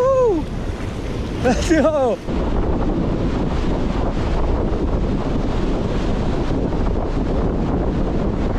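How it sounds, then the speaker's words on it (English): Strong beach wind, around 20 mph, roars steadily into the microphone during surf fishing with sand crab bait, with crashing surf mixed in; someone shouts briefly near the start, then the gusty rumble continues unbroken. "The wind is probably like 20 miles per hour"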